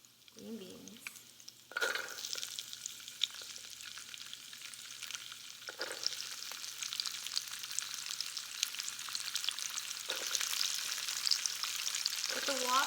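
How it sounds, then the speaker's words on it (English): Green beans hiss and crackle as they stir-fry in a hot wok for Thai basil chicken. The steady sizzle is broken by several scraping stirs, and a brief voice cuts in near the start and again near the end. "With the wok, you have to constantly stir because it can burn quickly"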